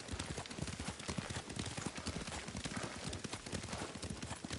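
Horse hooves clip-clop at a steady gallop during riding in the video game Ghost of Tsushima, a rapid, continuous rhythm of close, fairly quiet hoofbeats.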